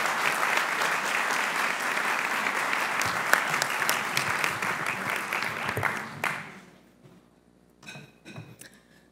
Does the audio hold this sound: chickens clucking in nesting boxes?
no